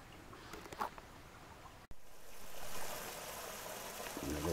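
A stream trickles gently on a hike, a faint, steady wash of running water after a brief break, heard quietly outdoors with no one talking.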